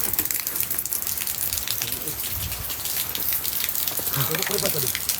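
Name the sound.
rain on Gunung Salak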